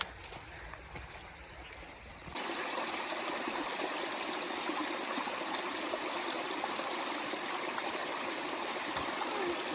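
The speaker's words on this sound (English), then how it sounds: "They were not kidding about all of the river crossings." Water rushing over rocks at a stream crossing along a forest hiking trail in Green Ridge State Forest, a steady, close, broadband splashing flow that swells louder after a couple of seconds and continues unbroken.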